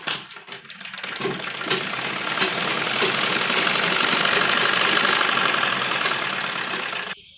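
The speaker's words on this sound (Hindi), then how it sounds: "और इस सिलाई को हम डबल करेंगे" A sewing machine double-stitches a side seam on a readymade kurti during alteration, running as a steady, continuous mechanical whir for about six seconds before stopping abruptly, with no talking.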